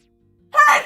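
A single sharp sneeze bursts out close after half a second of near silence, brief and loud, during a Deadly Premonition 2 play session.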